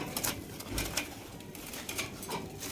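Golla pigeons coo in soft, low repeated calls, with faint wing flutters and rustling from nearby birds, close and without talk.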